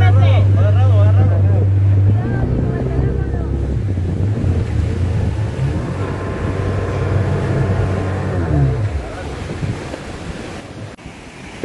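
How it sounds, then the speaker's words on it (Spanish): A motorboat crosses open sea toward the village of Plan Grande in the Santa Fe municipality, its engine a loud, steady close drone over rushing wind and splashing waves, with a brief faint voice near the start. "Aquí solo se puede llegar vía lancha."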